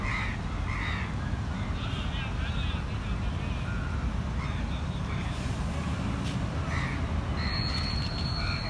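Crows caw now and then over steady outdoor rumble and wind during a morning walk in Thakin Mya Park, Yangon, with a few higher bird calls near the end.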